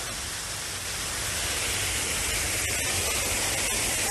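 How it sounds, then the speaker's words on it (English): Water runs continuously through a small man-made garden stream, a dense, steady rushing wash that stays close and fairly loud with no break. There is no talking. "The sound of the running water."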